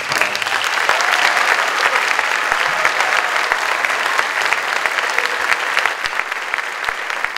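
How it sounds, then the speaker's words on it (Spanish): An audience claps warmly before a youth orchestra and choir concert in El Salvador: dense, steady applause from a crowd, sustained throughout without a break. "antes de que empecemos, un gran aplauso."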